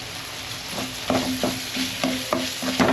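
Tomatoes frying in oil for a chicken curry, with a soft, steady sizzle and a regular beat of spoon scrapes against the pan, close by and without talk.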